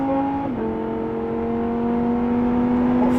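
A Lamborghini Huracán engine drones loudly and steadily on a race circuit, its pitch dropping briefly early on as it shifts, then holding a strong, even hum.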